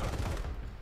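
Rapid gunfire in the mobile shooter Sniper Fury, a short, loud burst of booming shots running together into a rumbling fusillade that fades within a second.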